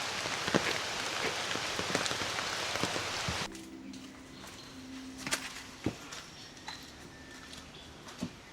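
Steady rain patters on surfaces outdoors at night during the first rain of the season in a village. It is heavy and dense at first, then thins to scattered close drips and taps.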